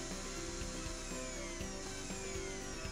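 A power drill drives screws into the end caps of a spiral duct grille, giving a steady whirring motor drone with repeated rhythmic pulses, close and continuous throughout.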